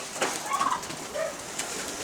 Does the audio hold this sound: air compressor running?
no